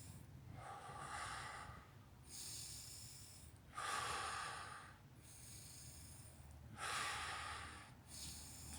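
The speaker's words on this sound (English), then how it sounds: "Deep breaths through the nose," Slow, deep breaths are drawn in through the nose and pushed out through the mouth, close and soft, in an even cycle of about three full breaths with airy rushes and quiet pauses.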